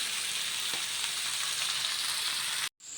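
Beef frying in a pan, a steady close hiss and sizzle that runs unbroken for nearly three seconds before a brief cutout.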